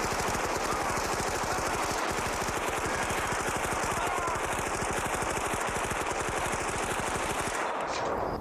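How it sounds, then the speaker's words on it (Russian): A long burst of rapid machine-gun fire in a film scene, fast, even, close and loud, running without a break for about eight seconds before cutting off abruptly. "вываливает всю эту череду выстрелов"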